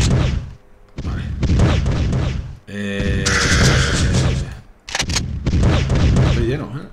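Weapons fire in the PS5 game Powerslave Exhumed: repeated loud, heavy booming shots and blasts in bursts, with brief pauses between volleys and game effects layered in.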